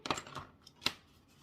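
Scissors snip paper for a scrapbook album page, a few sharp close cuts: a quick pair of snips, a softer one, then a final crisp cut in a quiet room.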